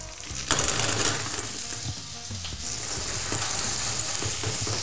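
Food sizzles and fries steadily in hot olive oil in a pan, a continuous close crackling hiss with occasional stirring scrapes and no talk.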